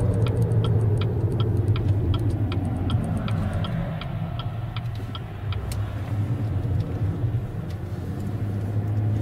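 Road vehicles passing nearby in a steady, loud rumble that swells and eases, with faint ticking in the background and no voices.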